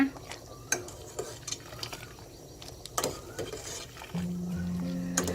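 Rice noodles being stirred in a pot give intermittent clinks and scrapes of a utensil against the metal, fairly quiet, with a low steady hum joining in toward the end and no speech.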